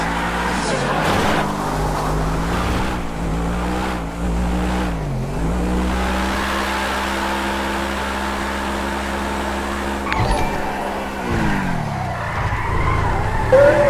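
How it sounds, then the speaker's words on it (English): A Pagani Zonda in GTA 5 spinning its rear wheels, loud tire squeal and skidding over a high, sustained engine roar whose pitch dips and climbs, with someone talking over it. "A lot of wheel spin there, because of course the Zonda is only two-wheel drive. So it sounds like an old F1 car."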